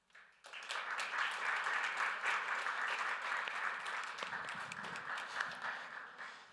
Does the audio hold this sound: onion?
no